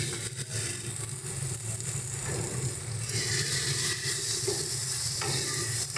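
Garlic, ginger and green chili paste sizzle and fry in hot oil for a prawn curry, a steady crackling hiss with occasional stirring scrapes, no talking.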